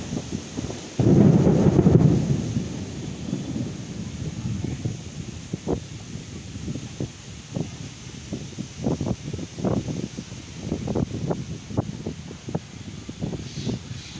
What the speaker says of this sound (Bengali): হঠাৎ দেখেন কি বাতাস শুরু হলো হয়তো কিছুক্ষণের মধ্যে আবারও আজকে বৃষ্টি চলে আসবে